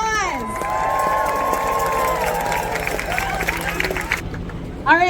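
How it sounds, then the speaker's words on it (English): An outdoor crowd at the Grassy Narrows River Run cheers and claps for visiting guests, with shouts and children's voices rising over the babble before the noise thins out near the end. "Give them a round of applause."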